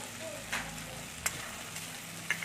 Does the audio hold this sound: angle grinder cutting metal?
no